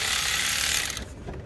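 Fasteners on a turbo clamp being run down during a turbo replacement on a Ford 6.0 Powerstroke diesel, a steady close ratcheting whir that cuts off after about a second.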